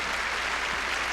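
Dense, continuous applause from a live audience for a singer on a 1982 touring show, an even roar of clapping heard alone.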